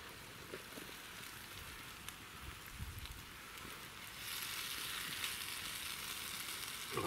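Chorizo, onion, mushrooms, peppers and tomatoes fry on a camp stove at a winter wild camp, a steady close sizzle that grows louder and brighter partway through.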